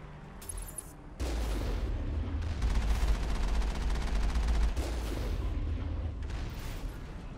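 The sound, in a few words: heavy cannon firing in the video game Mass Effect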